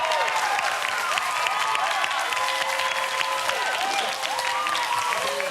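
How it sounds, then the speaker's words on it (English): An audience applauds, a sustained wash of clapping with a few scattered higher sounds mixed in, holding steady throughout. "Let's give them a round of applause."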